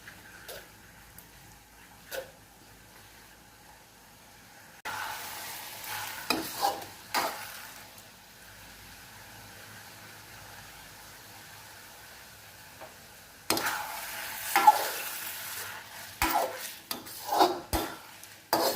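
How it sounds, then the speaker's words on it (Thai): Rice noodles stir-fried in a pan over medium heat, with bursts of scraping and rustling from the spatula between quieter stretches of gentle sizzling, close and moderately loud, no speech. "อันนี้ผัดไปเรื่อย ๆ จนให้เส้นนิ่มนะคะ ใช้ไฟกลางนะคะ"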